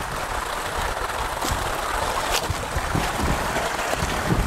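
Steady broadband rush of a small stream or waterfall flowing in rural countryside after two days of rain, continuous and fairly close, with faint low knocks and no talking.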